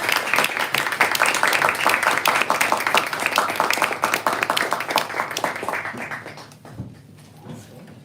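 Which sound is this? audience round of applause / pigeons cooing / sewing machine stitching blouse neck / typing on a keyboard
audience round of applause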